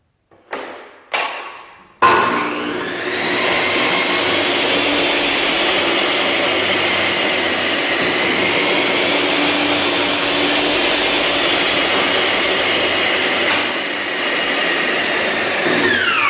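A power saw cuts a wooden piece to length in a woodworking shop: two brief knocks, then the motor spins up to a loud, steady whine that runs on with a slight dip near the end.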